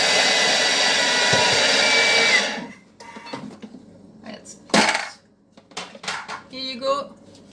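A Thermomix grinds almonds into almond meal with a loud, dense, steady whirring roar for a couple of seconds, then cuts off, leaving scattered clinks and light kitchen handling noises.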